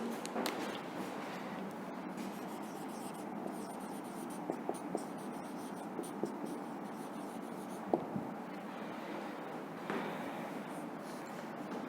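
Chalk or marker writing on a classroom board as an English grammar teacher writes a past-tense sentence, a steady scratchy stroking sound running continuously with faint room noise and occasional small taps.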